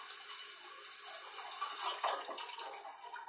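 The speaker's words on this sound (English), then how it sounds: "I rinse them off." Canned beans rinsed under a running faucet, a steady soft hiss of flowing water with a few brighter splashes near the middle, close and alone.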